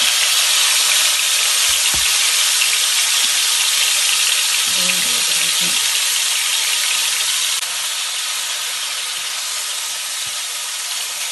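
A chicken steak burger patty frying in a pan makes a steady, loud hissing sizzle that barely changes, with a few faint clinks and a slight drop in level toward the end.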